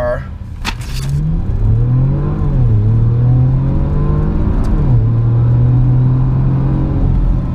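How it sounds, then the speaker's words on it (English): Porsche Macan Turbo engine heard from the cabin of the 2015 SUV, a steady loud drone with rising and falling harmonics as it accelerates and shifts, continuous throughout with a brief higher noise burst near the start. "from in the car, like the engine note is not Porsche supercar special"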